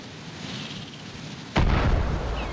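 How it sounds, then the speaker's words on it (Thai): After a stretch of quiet ambient hum, a single loud explosion in Far Cry 6 bursts suddenly and lingers as a heavy, rumbling boom. "ระเบิดจากตรงนู้น"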